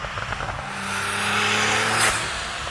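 Porsche turbo roadster engine accelerating up through the revs in one sustained, loud pull with a rising tone, close by and heard alone.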